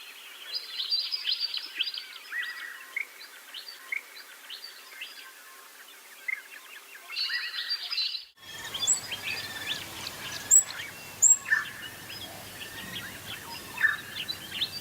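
A babbler attending a nest in the open stony shrubland of Burra Sanctuary, Central Australia, gives repeated bright chirping calls in short bursts, moderately near, with faint background birdsong and no talking.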